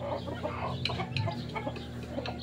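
Small white native bantam chickens clucking in a backyard coop, a steady stream of soft, close clucks and murmurs over a low background hum, with no one speaking.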